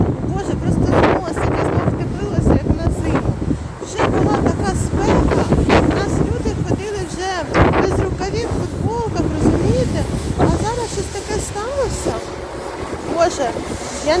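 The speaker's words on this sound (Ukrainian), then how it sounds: "Такий вітер." Strong storm wind outdoors buffets the microphone in loud, continuous gusts, with a voice speaking Ukrainian over the roar.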